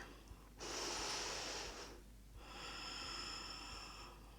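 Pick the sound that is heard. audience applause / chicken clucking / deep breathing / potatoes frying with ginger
deep breathing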